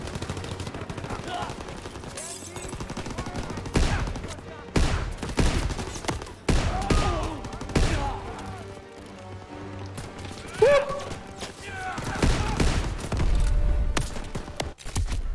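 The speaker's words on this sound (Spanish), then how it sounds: "¡Ametralladoras en las escaleras!" Bursts of machine-gun fire in the Call of Duty: WWII video game, loud rattling volleys coming and going in waves amid battle noise, with voices shouting over the shooting.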